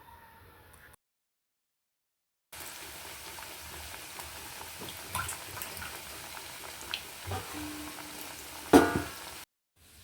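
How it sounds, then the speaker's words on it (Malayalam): Iftar snacks fry in oil over a medium flame with a soft, steady bubbling sizzle and a few brief clinks, following a short silent gap, fairly quiet and without speech. "ഒരു മീഡിയം ഫ്ലെയിമിലിട്ട് നമുക്കിത് ഫ്രൈ ചെയ്തെടുക്കാം"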